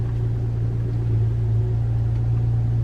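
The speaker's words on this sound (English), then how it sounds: "start the car" A BMW E89 engine runs with a steady low rumble and a strong droning hum, even and continuous at close range, with no distinct cranking burst.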